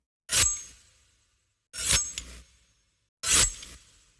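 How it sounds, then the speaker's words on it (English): Three sharp metallic knife slashes ring out one after another at even intervals, each a bright swish that fades quickly into silence. "For the knives, I use my different recordings of knife slashes."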